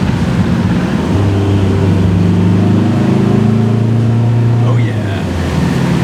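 A Ram ProMaster diesel van climbs a hill, its engine droning loud and steady from inside the cab, with the pitch rising and then dropping as it shifts gears, while a voice gives a brief exclamation.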